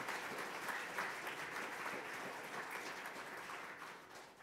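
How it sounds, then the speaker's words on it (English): A church congregation applauds in a hand clap of praise, a dense, steady wash of many clapping hands that fades slightly toward the end, with no voices over it. "Let's give the Lord Jesus another hand clap of praise tonight."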